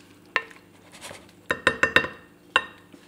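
Vanilla extract is gently stirred into sliced peaches for a peach cobbler, giving a few clear spoon clinks against a bowl, a single tap followed by a quick burst of four and one last clink, with no talking.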